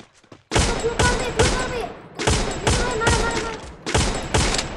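Gunfire from a battle royale video game rips out in loud, close bursts of rapid automatic fire, four or five volleys separated by brief gaps.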